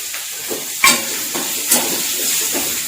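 Green chillies sizzle and hiss steadily in a pan for gongura chutney, with a few sharp clinks of a spoon stirring against the metal.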